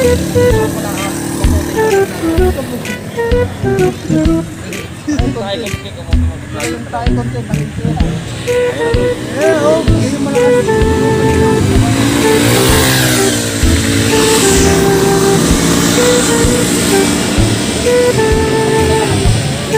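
A Harley-Davidson motorcycle engine roars past on the road, a loud, continuous revving rumble that swells and shifts as it goes by, with other traffic noise and people talking over it.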